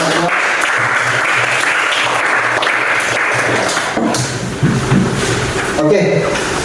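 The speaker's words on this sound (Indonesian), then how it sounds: "Beri aplaus untuk kelompok 2" Classroom applause for a student group, several seconds of steady clapping from a group of students, with a little talk mixed in.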